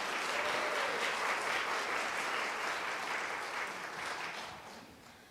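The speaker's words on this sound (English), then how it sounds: "give him one more round of applause" Sustained applause from an audience at a district English spelling bee after a student spells a word correctly, dense and steady, tapering slightly toward the end.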